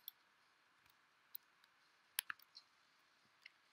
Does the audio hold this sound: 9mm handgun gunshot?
no